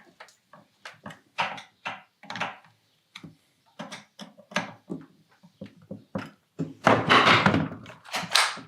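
Recoil starter fitted onto a Husqvarna chainsaw: a string of sharp plastic and metal knocks and clunks at an uneven pace, close and clear, with a denser rattle of handling near the end.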